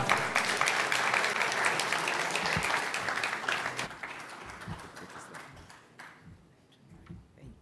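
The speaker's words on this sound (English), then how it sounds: "Please give me a rousing round of applause for the CEO of the GSE" An audience at an investment summit applauds the stock exchange CEO with dense, sustained clapping that fills the room and then slowly thins and fades to a few scattered claps.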